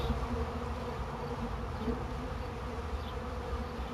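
Honeybees buzz around a beehive, a soft continuous swarm hum with no voices.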